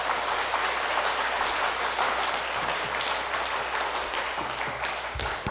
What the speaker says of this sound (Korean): 우리 목사님 나오실 때 큰 박수로 맞아주시기 바랍니다